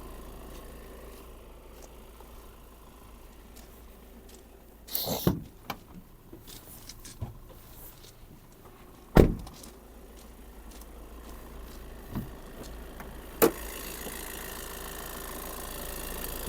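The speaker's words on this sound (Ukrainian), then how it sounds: "моторчик працює" Volkswagen T6.1 long-wheelbase van with DSG gearbox idling: a low, quiet, steady engine hum with a few sharp clicks and knocks over it.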